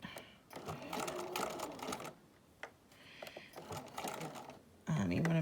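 Sewing machine stitching a mini quilt, rapid mechanical needle clatter in two running bursts with a brief pause between, close by, while a person talks.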